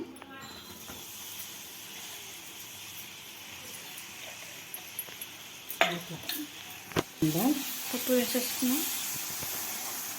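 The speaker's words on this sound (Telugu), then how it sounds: "పప్పుని కలిపేస్తాం." Lentils stirred into melted jaggery in a pan: a spoon scrapes and clinks against the metal in short bursts during the second half, over a faint steady hiss.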